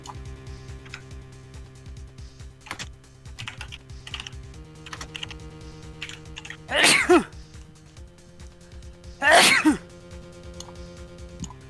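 Two loud, close sneezes burst out a couple of seconds apart in the Ace Attorney Investigations Collection video game, set over a steady low musical drone and soft ticking text blips.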